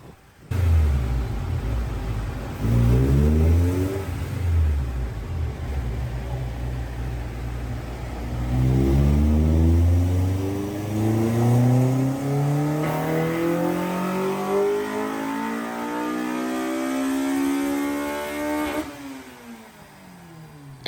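A car engine with a short ram intake revs hard on a dyno, climbing up through the rpm in a loud, rising roar during a short early pull, then a long sweeping full run that ends with a sudden drop.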